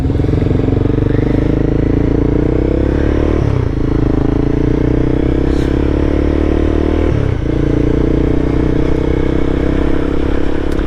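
A Honda CBR300R motorcycle drones loudly at steady speed, engine pitch dipping twice with gear changes, heard from the rider's position with wind noise.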